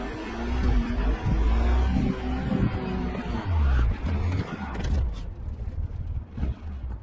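A car driven flat out in the Cyberpunk video game, its engine roaring loud and steady with rising revs and gear changes, with the roar easing off toward the end.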